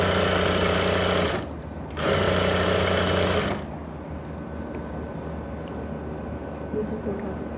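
A sewing machine runs a straight stitch on pants with a front belt and elastic back, in two loud close bursts separated by a short pause, then stops, leaving quiet room noise.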